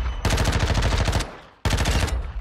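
MP5 submachine gun in the video game Modern Warfare 2 firing two loud, close bursts of rapid automatic shots, a one-second burst, a short pause, then a second burst.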